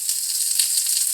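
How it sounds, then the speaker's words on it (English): Eggplant searing in hot oil in a pan for a Filipino breakfast, giving a steady, close, bright sizzle with no talk. "lightly sear them"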